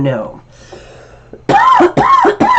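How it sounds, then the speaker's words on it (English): A few sharp coughs follow one another near the microphone after a short stretch of quieter sounds, each burst loud and abrupt. "I'm trying so hard not to cough during these"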